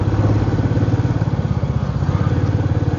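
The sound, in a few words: motorbike engine while riding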